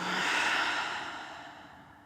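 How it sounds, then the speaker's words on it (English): A single deep exhale during a yoga session, close and breathy, fading steadily over about two seconds with no talking. "One more deep breath in. Hold it. Inhale a little more. Exhale, let it go."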